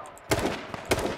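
Gunfire in the battle royale game H1Z1 King of the Kill: two loud, close bursts of shots about half a second apart, each a sharp crack with a brief rumbling tail, with no talking.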